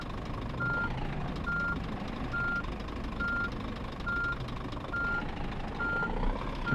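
Steady backup alarm beeps, about eight evenly spaced tones, ring over a deep idling diesel rumble as a long truck reverses in the PS5 game On The Road Truck Simulator.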